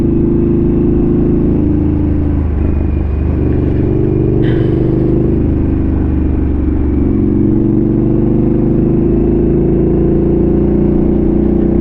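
Harley-Davidson motorcycle on the road, its engine droning steadily and loudly close to the rider, with a low rumble that builds slightly as it accelerates to pass, under steady wind noise.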